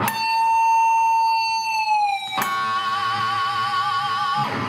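A sustained electric guitar note bends and slowly releases, then two notes ring together with a gentle wavering vibrato.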